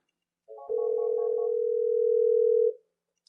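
A Cisco SPA phone plays a call tone while returning a call: a short buzzy chirp, then one steady, loud, sustained tone lasting about two seconds before cutting off, with silence around it.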